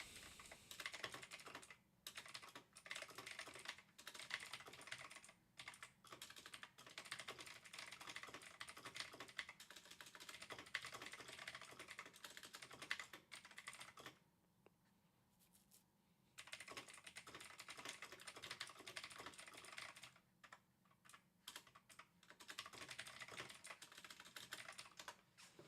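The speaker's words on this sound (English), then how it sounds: "You can just hear me twatting my keyboard" Someone types hard on a computer keyboard in quick, dense bursts of clattering keystrokes, with two short pauses and no talk.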